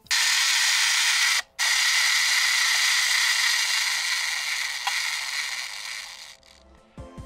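A 2004 TOMY wind-up James toy train whirs loudly and continuously as its wind-up mechanism spins the drive wheel and moves the eyes, with a brief break early on before it winds down and stops near the end.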